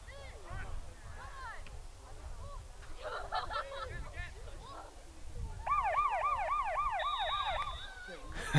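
A police car siren wails with rising and falling sweeps at a high school boys soccer game at half-time, heard at a distance under crowd noise and a commentator's voice, growing clearer and more regular toward the end.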